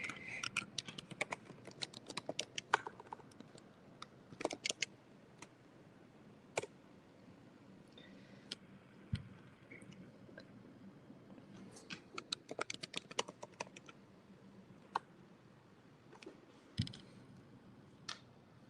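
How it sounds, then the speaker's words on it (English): A computer keyboard being typed on in quiet bursts of rapid clicks with brief pauses between them, faint and close, with no talking. "Oh, I could type it in."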